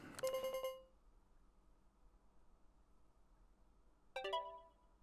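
Phone in the video game Deadly Premonition 2 rings in two short electronic bursts, one at the start and another a few seconds later, separated by faint hiss.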